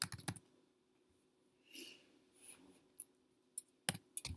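Computer keyboard typing in a quiet room: a quick cluster of key clicks at the start, then scattered light taps and a final burst of several sharp clicks, close and alone.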